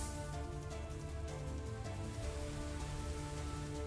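Rain from the Rain Dance move in the video game Pokemon Shining Pearl falls as a steady, even hiss of rainfall, blended with the game's continuous music at low volume.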